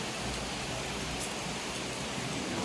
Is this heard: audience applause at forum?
no